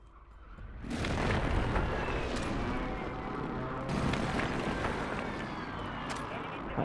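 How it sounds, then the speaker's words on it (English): Explosions from a precision airstrike in Call of Duty MW3 on Rebirth Island, one loud broadband blast starting near the first second and rumbling on, with a second surge near four seconds and players talking over it. "Friendly precision airstrike inbound."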